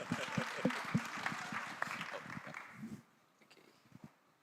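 An audience at an evening gathering gives a short round of applause for a volunteer, a scattered burst of clapping that fades out after about three seconds into near quiet.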